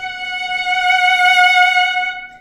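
A single sustained violin note played with vibrato that starts fast and narrow and widens as it swells into a crescendo, from Meditation from Thais; one bright, steady tone, close and solo, fading at the end.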